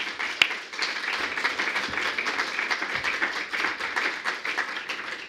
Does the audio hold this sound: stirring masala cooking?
no